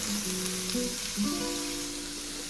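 Potatoes fry in a pan for a breakfast hash, a gentle steady sizzle close by with a faint tonal whine running through it.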